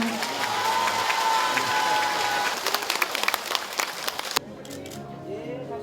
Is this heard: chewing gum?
no